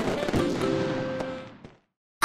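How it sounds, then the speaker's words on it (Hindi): A cartoon Diwali firecracker bursts in a single loud crackling blast that fizzles and fades over about a second and a half, followed by a brief silence and then a sharp new sound at the very end. "हैप्पी दिवाली वाला अतरंगी पटाखा"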